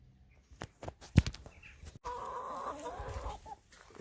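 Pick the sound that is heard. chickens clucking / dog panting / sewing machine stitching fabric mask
chickens clucking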